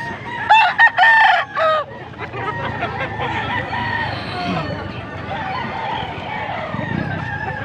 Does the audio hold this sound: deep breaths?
no